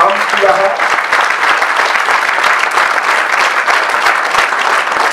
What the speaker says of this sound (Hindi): इस फैमिली के लिए जोरदार तालियां बजा दे जिन्होंने ये सारा काम किया है।